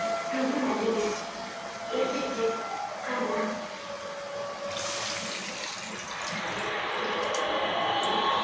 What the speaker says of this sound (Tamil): இப்போ குழம்புக்கு தேவையான தண்ணி சேர்த்துக்கலாம்.